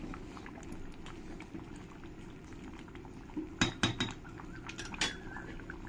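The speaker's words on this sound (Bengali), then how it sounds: "আলুগুলো দিয়ে ভালো করে একবার নেড়ে দেব।" Fried potatoes are stirred into mutton kosha in a pot, giving a low bubbling simmer throughout, joined midway by a few sharp clinks and scrapes of a spoon against the pot.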